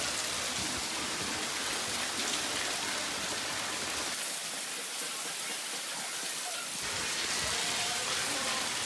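Rain falls in a village lane on a cold day as a steady, loud, unbroken hiss with no voices.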